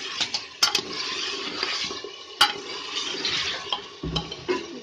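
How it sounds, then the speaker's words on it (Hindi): Onion paste fries in a pot while being stirred, a close, steady sizzle broken by sharp clinks and scrapes of a metal spoon against the pot's sides. "इसमें हम प्याज का पेस्ट डालेंगे, प्याज का पेस्ट डाल के भूनेंगे।"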